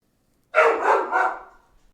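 A dog named Lucy gives three quick barks in a row, close and loud, in an otherwise quiet room, with no talking.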